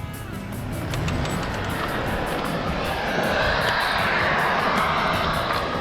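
A large outboard motor on a new Miracle Marine Patriot boat roars at high revs, a loud sustained engine drone with rushing water that swells slightly and holds steady throughout, no voices.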